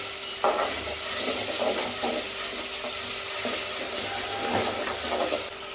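Ginger garlic paste sizzles and fries with onion and tomato in a pan for a crab curry, a steady loud hiss broken by repeated scraping stir strokes close up, with no talking.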